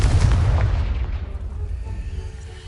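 A Confringo fire spell explodes in the video game Hogwarts Legacy, a loud, booming blast with a heavy low rumble that decays over a couple of seconds, heard alone without any talk.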